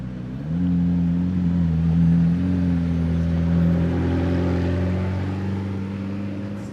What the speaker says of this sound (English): Open top McLaren.